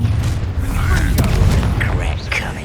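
A Depulso spell blast in the Hogwarts Legacy video game lands as a loud, booming burst amid battle noise, with voices calling out over the rumbling combat.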